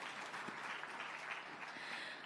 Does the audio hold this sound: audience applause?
yes